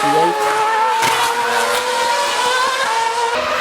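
Formula 1 cars at the 2009 Australian Grand Prix, a continuous loud, high-pitched engine scream with shifting tones as cars pass close by.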